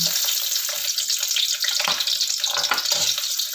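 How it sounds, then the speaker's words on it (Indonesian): Shallots, garlic and onion sautéing in hot oil, a bright, dense sizzle with occasional stirring movements, close and fairly loud throughout. "sekarang saya tumis dulu bawang merah, bawang putih, dan bawang bombay"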